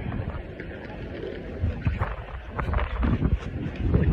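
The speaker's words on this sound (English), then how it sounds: "Oh, it's windy." Gusty wind buffets a microphone outdoors in downtown Jacksonville, Florida, a steady low rumble that swells into louder bursts in the second half, with no clear talk.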